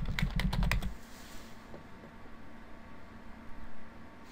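Brief burst of typing on a computer keyboard, about six quick, close key clicks in the first second, followed by quiet room noise and a couple of faint taps.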